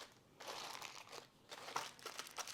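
Aluminum foil crinkles as it is pressed down to seal over a pan of slow-cooked roast and beans, in several soft crackly bursts, close and fairly quiet.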